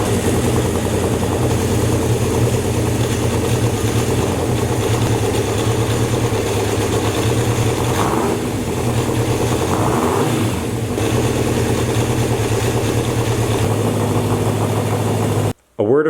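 A Honda CB750K motorcycle engine idles in a garage, a loud steady close rumble with a slight dip partway through before cutting off abruptly near the end.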